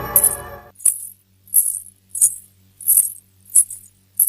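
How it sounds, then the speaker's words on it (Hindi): Anklet bells jingle in short, bright bursts, about seven shakes spaced evenly apart, over a low hum in a horror animation scene. A brief musical sting opens the clip. "ये तो पायल की आवाज है।"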